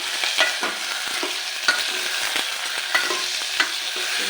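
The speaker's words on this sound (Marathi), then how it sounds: "थोडे वांगी परतून घ्यायची" Brinjal pieces sauté in a pan, a close, steady frying hiss broken by sharp clicks and scrapes of a spoon stirring at irregular intervals.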